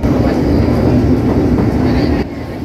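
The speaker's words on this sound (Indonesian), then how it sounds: "Ini kereta apa ya? Sepertinya ini adalah kereta api Purwojaya." Purwojaya passenger train, hauled by a locomotive, passing Gambir station in Jakarta: a loud, steady rumble of wheels and carriages close by, continuous throughout before easing slightly near the end.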